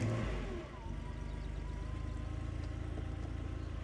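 A 1988 Porsche 911 Targa 3.2 Jubilee with 194,000 km fires up and settles into a steady mid-pitched idle, fairly quiet and even with no voices over it.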